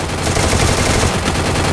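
Rapid automatic gunfire in the mobile shooter Free Fire during a 1 vs 1 custom room match, a dense, loud burst of close shots filling the whole short stretch.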